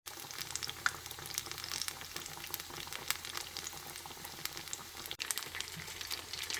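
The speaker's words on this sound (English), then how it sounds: "So just turn it around and then let it keep deep frying." Mauritian du pain frire, pieces of bread deep frying in hot oil, giving a continuous soft sizzle and bubbling crackle, close and fairly quiet, with no talking.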